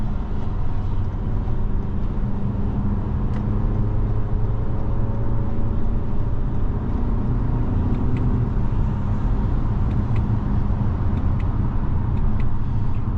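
Cabin sound of a 2023 Toyota Camry XSE cruising at highway speed: a steady, loud low road and engine rumble with tyre and wind noise, no talking.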